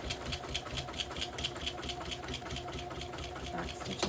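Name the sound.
sewing machine stitching a tote bag seam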